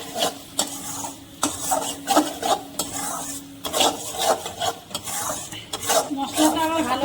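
Spice paste for a giant freshwater prawn curry sautéing in a pan with salt added, heard as a continuous sizzle broken by repeated scraping strokes of a spoon against the metal, close and fairly loud.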